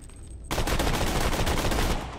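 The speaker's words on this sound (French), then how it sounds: "le fusil d'assaut coup par coup" A semi-automatic assault rifle fires in rapid succession in the shooter game Borderlands: The Pre-Sequel, a loud, close burst of repeated shots lasting about a second and a half with no talk.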